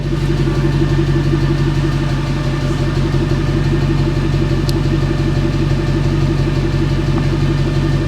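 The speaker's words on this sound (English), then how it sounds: "So literally that boost pack is the only power that started this car up then" A Nissan Micra 1.0 automatic, started from a boost pack despite a dead battery, runs at a steady idle close by, a continuous low engine drone with no voices over it.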